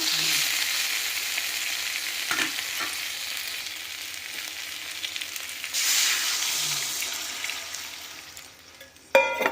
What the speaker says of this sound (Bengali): এতে এবার আমরা অল্প জল দিয়ে দেবো